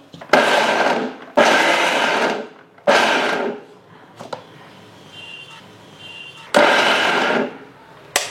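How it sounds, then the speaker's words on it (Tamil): A mixie grinder jar coarsely grinds deseeded gooseberries for thokku in loud, short whirring bursts, about five pulses with quieter gaps between. "இப்போ இதை மாதிரி நல்லா நம்ம கொரகொரன்னு அரைச்சி எடுத்துக்கலாம்."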